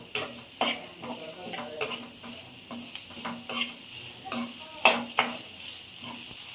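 Curry leaves fry in oil over a medium flame with a quiet background sizzle, broken by repeated sharp scrapes and taps of a spoon stirring in the pan at an uneven rhythm.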